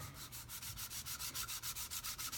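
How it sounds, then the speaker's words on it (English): 120-grit sandpaper rubs back and forth on the wooden paddle of a turkey box call in quick, even strokes, a close, soft, rhythmic scratching with about a dozen passes. "evenly across the bottom side of that paddle with the 120 grit sandpaper"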